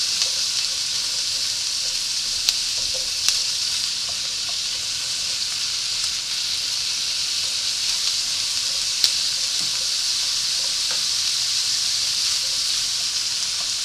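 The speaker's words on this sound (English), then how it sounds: "I'm just going to saute this just to get the rawness out of it" Red and yellow bell peppers sautéing in a hot pan for shrimp and grits, giving a loud, steady, unbroken sizzle with a few faint clicks from stirring.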